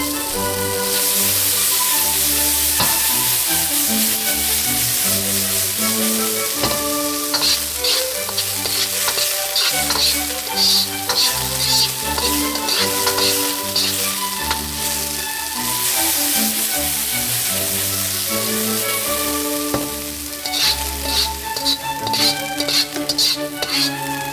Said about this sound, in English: start by sweating the shallots over medium heat until they begin to caramelize